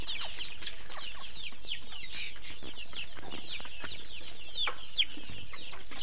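Many chickens cluck continuously in a poultry breeding shed, with a busy overlapping chatter of calls from nearby birds and no talking.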